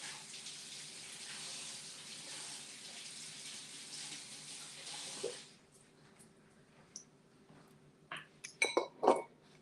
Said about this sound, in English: Let me rinse them off real quick.